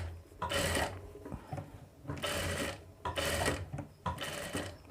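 A sewing machine stitches the sleeve onto a boat neck blouse in short, rhythmic bursts of rapid needle clatter, four quick runs separated by brief pauses, close and clear with no talking.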